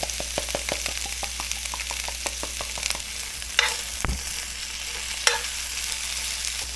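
Peppers sizzling and frying in olive oil in a pan with kosher salt and cracked black pepper, steady crackle with repeated sharp stirring scrapes and taps, close and moderately loud, no talking.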